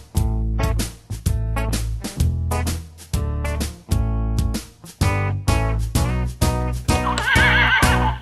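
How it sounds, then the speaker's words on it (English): A horse neighs repeatedly in a series of loud, close whinnies with short pauses between them, the last call higher and shriller. "It's a horse"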